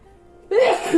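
A single loud, close sneeze bursts out abruptly after a moment of near silence.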